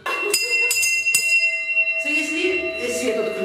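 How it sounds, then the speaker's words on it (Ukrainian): A hand alarm bell kept for power outages at a kindergarten during a fire-safety inspection is struck three times, each blow ringing out with a bright metallic sustain before a voice starts talking over the fading tone. "На випадок вимкнення електроенергії тривожний дзвоник."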